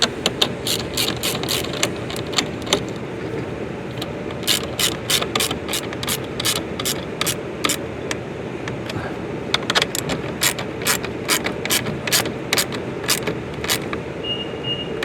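A hand ratchet drives 4.8 by 25 screws while a 2023-2025 BMW M240i with adaptive cruise control is fitted, giving rapid bursts of close, crisp pawl clicks in steady rhythm over a low background hum.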